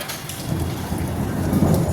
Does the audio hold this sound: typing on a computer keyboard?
no